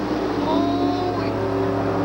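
A monster truck on tractor tires churns through a mud pit at a 1987 USHRA event in Minneapolis, a steady, loud engine roar with a high whine that holds without a break.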